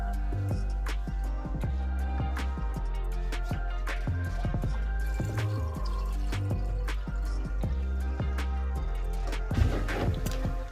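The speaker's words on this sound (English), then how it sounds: "I just pour this in the empty part of my sink?" Water from a 6-gallon jug pours into the empty side of a portable shampoo sink, producing close, quiet splashing and dripping with scattered plops and trickles and a brief louder gush near the end.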